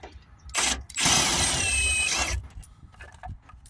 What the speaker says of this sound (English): Just get the ratchet onto it.